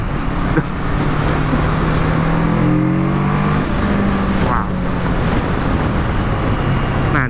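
A 650 cc motorcycle revs hard at high RPM on a city road, its engine note rising in pitch and sweeping up then down as it pulls, steady and loud throughout with traffic noise around.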